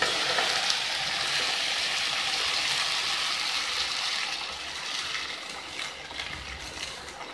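Tomatoes, a dozen dried red chillies and a handful of garlic frying in oil for pickle, a dense steady sizzle that settles slightly over time, close and with no talking.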